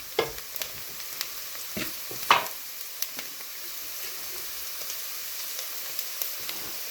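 Onions frying in a pan for a village-style rabbit gravy, stirred now and then, giving a faint steady sizzle with scattered soft scraping clicks and one louder scrape, no talking.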